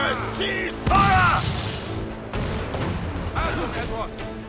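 Ship cannons in Assassin's Creed IV: Black Flag fire in several heavy booms, a few seconds apart, with raised voices shouting in German between the blasts.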